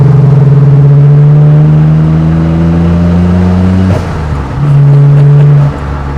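Nissan R32 GTR turbo engine droning loudly from inside the car under acceleration, a steady rising tone that drops off suddenly partway through, then returns briefly before cutting out, with no voices.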